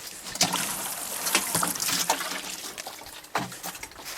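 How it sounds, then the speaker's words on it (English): Water is poured into a compost jar holding soil and newspaper, a close trickling and splashing sound in uneven bursts. "I'm going to add a little bit more water"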